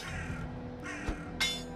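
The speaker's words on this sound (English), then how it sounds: "I hear crows" Crows caw in the Valheim game's frozen deep north biome, several harsh calls spread across a short stretch over a steady low ambient hum, fairly close and clear.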